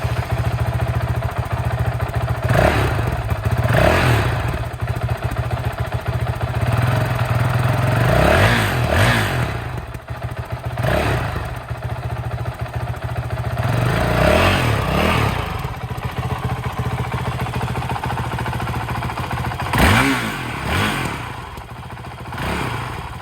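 A 2021 Honda CRF450L motorcycle on its stock exhaust and stock ECU, idling with a steady mid-pitched engine note and being blipped in several sharp revs, close to the bike with no talk.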